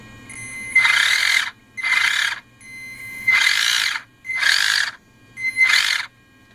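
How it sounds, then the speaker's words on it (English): A cheap RC car's drivetrain grinds under throttle in five separate bursts of harsh, high mechanical whirring with a ratchet-like edge, each lasting about a second, close by with no talk. "There's kind of a grinding noise, and these back wheels are barely spinning."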